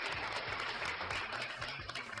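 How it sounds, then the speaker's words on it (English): Steady round of applause, dense broadband clapping close up and continuous for the whole moment, with no talk over it. "I gotta give you a round of applause there for the super chat."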